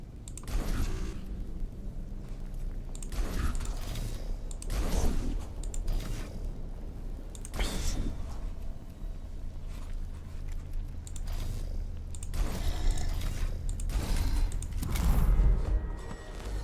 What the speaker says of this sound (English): The sound of whirring energy builds up around your troops.